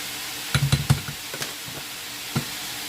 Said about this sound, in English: The rice, let's see. Give it a stir.